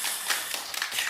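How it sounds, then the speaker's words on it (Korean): Church congregation clapping in welcome during a Sunday service, a dense, steady patter of many hands heard briefly and fairly close. "우리 임미 성도님 한국 잘 다녀오셨는데 우리 잠깐 일어서 주시면 저희들이 박수로 환영하도록 하겠습니다"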